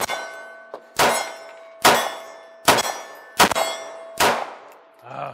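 Bullets from an FNS-9C pistol strike steel circle gong targets on a shooting range, giving five loud, ringing metallic clangs about a second apart, each decaying quickly, with a faint softer knock near the end.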